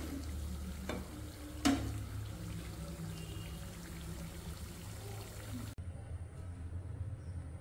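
Jaggery pitha fry in oil with a soft, steady bubbling sizzle, broken by a couple of sharp utensil taps and a quieter stretch at the end.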